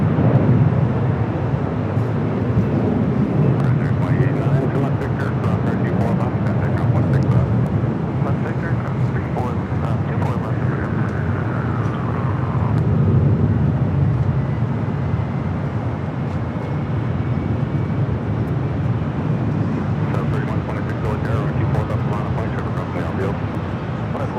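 Broad, steady jet rumble from a British Airways airliner at LAX fills the scene, with a faint rising whine partway through and occasional speech beneath the engine noise.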